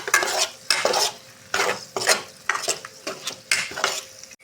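A spatula repeatedly stirs an ivy gourd stir-fry coated with chilli powder in a pan, making about eight rhythmic scraping, sizzling bursts up close with short pauses between strokes.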